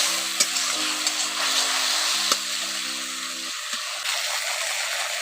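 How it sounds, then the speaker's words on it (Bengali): Spice masala for a young jackfruit curry is sautéed in a pan, with a steady broadband sizzle and a few sharp scraping clicks from stirring. A low tonal hum runs underneath for most of the time. "এখন মশলাটাকে কষে নিচ্ছি"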